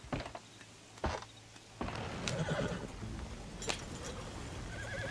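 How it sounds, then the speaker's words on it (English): Horses in Red Dead Redemption 2 whinny loudly a few times near the start, then hooves clop and shuffle with harness jingling as the animals move around at night. "Hey, all the horses untethered?"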